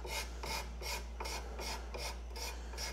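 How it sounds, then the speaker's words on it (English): A card scraper pulled across a wooden furniture surface gives crisp, evenly spaced scraping strokes, about seven in three seconds, close and alone with no voices. "I will card scrape."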